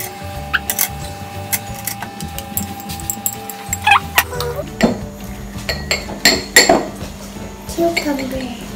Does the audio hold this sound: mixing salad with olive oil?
yes